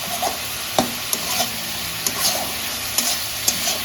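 Chicken fries in its own released juices in a pan, a steady broadband sizzle broken by occasional close clicks and spoon knocks.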